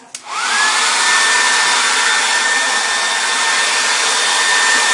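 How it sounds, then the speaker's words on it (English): Handheld blow dryer switched on with a click, spinning up quickly into a loud, steady whooshing airflow with a faint high motor whine, running continuously and close by with no talking. "I'm going to turn this blow dryer on again real quick"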